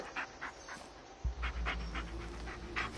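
A dog in the Blair Witch horror video game pants rapidly and whimpers softly, a close, faint, breathy rhythm over a low ambient hum, with no talk.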